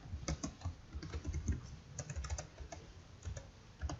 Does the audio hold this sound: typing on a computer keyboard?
yes